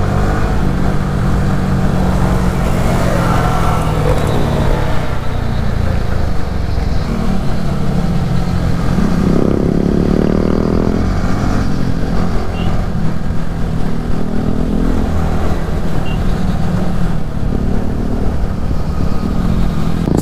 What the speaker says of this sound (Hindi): बाइक है, तो थोड़ा बहुत तो टाइम लगता है, तो इसलिए मैं थोड़ा धीरे चला रहा हूँ